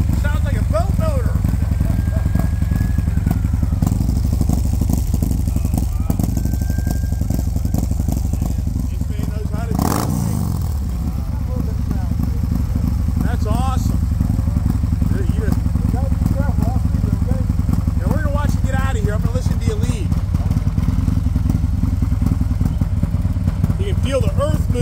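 Harley-Davidson Street Bob motorcycle fitted with an aftermarket cam idling close by, a loud, lopey, uneven rumble held throughout with one brief throttle blip, while people talk over it.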